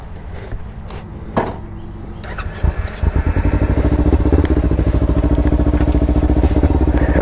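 A 2016 Kawasaki Ninja 300 ABS sport bike starts with a few clunks and crackles, then its engine runs loud and close in a steady, rapid pulsing drone.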